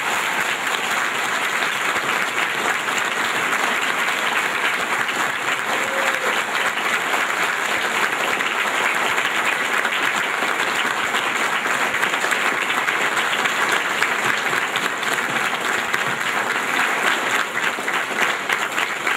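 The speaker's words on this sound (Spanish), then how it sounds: "Un fuerte aplauso," Congregation in a church applauds strongly at a Guadalupe novena celebration, a dense, continuous wash of clapping that stays loud and steady for the whole stretch.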